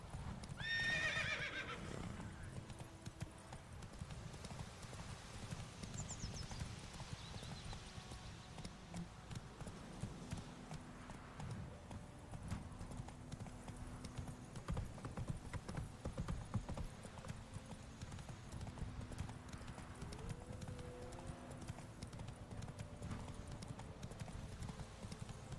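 In The Witcher 3, Geralt's horse Roach gallops with rapid, rhythmic clip-clop hoofbeats. A high whinny comes near the start, then the hooves continue steadily over a quiet background, with no talking.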